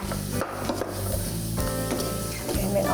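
A black tea spice mix is stirred and scraped in a container, with uneven rubbing and knocking strokes against a steady background hum.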